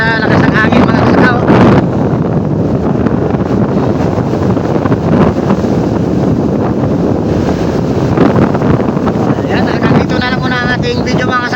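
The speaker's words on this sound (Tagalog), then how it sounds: "Malaki ang alon." Heavy wind buffets a boat on rough sea with large waves, a loud continuous roar and wash of water, while a voice speaks briefly at the start and again near the end.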